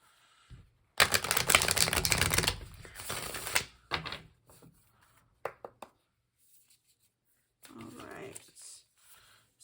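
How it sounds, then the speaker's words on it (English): Tarot cards being shuffled by hand, a dense papery riffle and rustle lasting a few seconds, followed by scattered soft card taps and slides, then a quieter shuffle at the end. "We'll do one more shuffle."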